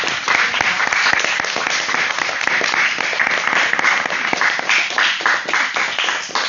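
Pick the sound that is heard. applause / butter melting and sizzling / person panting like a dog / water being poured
applause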